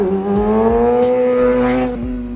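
A motorcycle engine revs hard during a wheelie attempt, its loud, close tone climbing steadily in pitch for about two seconds before easing off.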